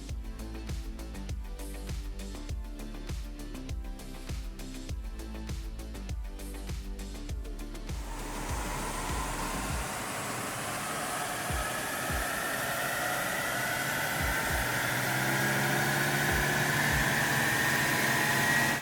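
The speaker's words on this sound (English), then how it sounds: "We're now going to go put the vehicle back onto the dyno and do a couple of power runs." A Ford Ranger fitted with a Safari Armax snorkel runs on a dyno during power runs. A steady, loud roar builds and rises over the second half, with rhythmic music playing over the first part.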